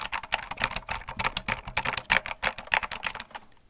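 Computer keyboard typed on close to the microphone in a quiet room for whispered ASMR, a quick irregular run of crisp plastic key clicks and taps with no voice.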